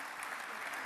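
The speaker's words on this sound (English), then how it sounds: "Let's thank the minister and give him a nice round of applause for his keynote." Audience applause at an energy congress after a minister's keynote, a dense, even roar of clapping heard faintly and briefly, with no distinct individual claps.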